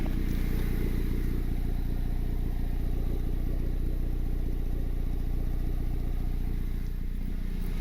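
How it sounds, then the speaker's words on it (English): Turbocharged Honda Civic R18 engine idling steadily with an open exhaust, a loud, close, continuous rumbling drone with a fine clattering pulse and no talk. "I'm running that open exhaust right now."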